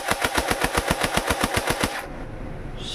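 An HK416D gel blaster fires on full auto: a rapid, even burst of about a dozen sharp shots over two seconds, loud and close, then stops into quiet room noise.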